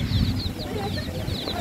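Baby chicks being sold at a market chirp in quick, high, overlapping peeps, a busy cluster of small voices under nearby talk and background noise.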